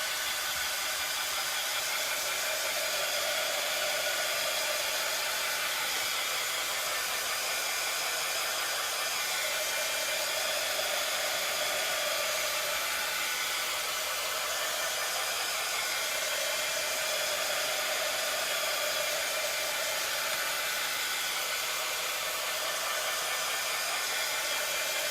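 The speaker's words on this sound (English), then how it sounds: "I'm going to grab my heat tool and just zap this a little bit more" Handheld heat tool blowing hot air to dry paint on a wooden farmhouse-style sign, a constant close whooshing roar of air with a faint motor whine, unbroken for the whole stretch.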